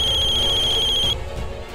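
A telephone rings on a line after a call is placed, a steady electronic ringtone with a bright repeating tone that cuts off after about a second, leaving low background noise.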